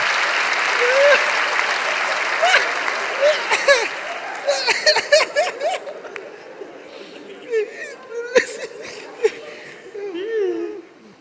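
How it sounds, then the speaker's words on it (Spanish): Studio audience on a Peruvian comedy talk show applauding for a guest named Matías: loud clapping that thins out, mixed with chuckles, laughter and voices talking over it. "Un fuerte aplauso para Matías"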